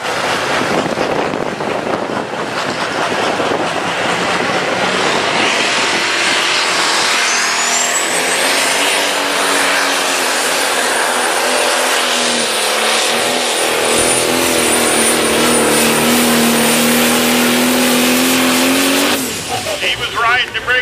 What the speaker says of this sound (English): She's driving the Mack Daddy tractor.